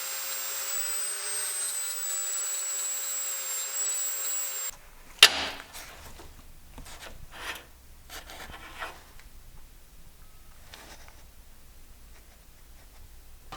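An angle grinder with a flap disc rounding out steel on a lawn mower build, giving a steady motor whine for several seconds that stops abruptly, followed by a sharp knock and scattered faint shop clatter.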